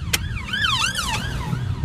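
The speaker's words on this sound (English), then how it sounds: "Ambulance." An ambulance siren wails past nearby on the road, its rising and falling tone sweeping loudly over traffic rumble for a brief moment.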